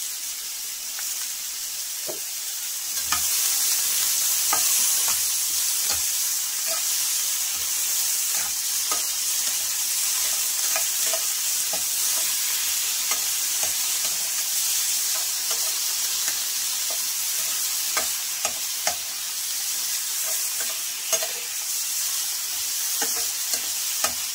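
Drumsticks frying lightly in a pan with a little turmeric and salt, giving a steady sizzle broken by frequent scraping stirs that click and rattle throughout, close and alone without talk.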